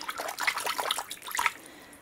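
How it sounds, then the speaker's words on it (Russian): Warm water, heated to about 30 degrees, pours from a watering can onto cold greenhouse soil freshly planted with parsley, a soft continuous splashing and trickling that is fairly quiet and close, with no talking. "Поливаю подогретой теплой водой."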